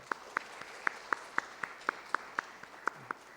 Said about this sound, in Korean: 우리 크게 한번 박수하도록 하겠습니다